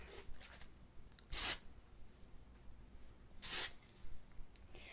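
Hairspray from a strong-hold can sprayed in short bursts beneath lifted sections of hair during a soft-spoken salon styling session, two distinct close hissing sprays with a fainter third near the end over quiet handling noise.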